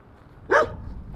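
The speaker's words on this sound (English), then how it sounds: "I don't know what those dogs were trying to do. Barking, sniffing." A single sharp dog bark, close and loud, cutting through low ambient rumble during an overland 4x4 trip, followed by quiet background.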